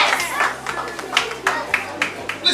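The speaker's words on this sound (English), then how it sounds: "Please clap for that." Audience clapping at an abacus mental arithmetic programme ceremony, scattered and uneven claps popping up across the room, moderately close, with crowd chatter underneath.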